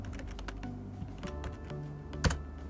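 Fingers type on a computer keyboard while entering a command at a Raspberry Pi terminal over SSH, a run of uneven clicky keystrokes with one louder key strike near the end, close and alone with no talk.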